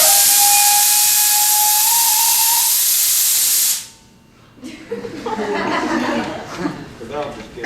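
Gas from a helium or hydrogen tank valve hisses loudly and steadily for several seconds, then cuts off abruptly, followed by people talking and laughing nearby.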